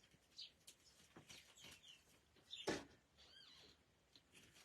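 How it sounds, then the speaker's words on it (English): Small birds chirp and sing outdoors in several short, bright bursts with pauses between them, fairly faint against a quiet background and one louder brief rustle partway through. "The birds are serenading us."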